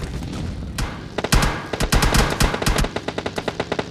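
Automatic gunfire rattles in PUBG Mobile Lite gameplay: loud, close bursts of rapid shots, ending in a run of evenly spaced single rounds.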